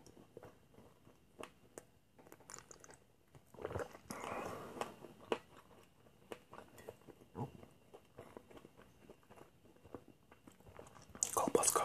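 Someone chews smoked Krakow sausage in a quiet, close-miked setting: soft, irregular bites and moist chewing sounds, with a louder crunchy burst near the end and occasional spoken words in between.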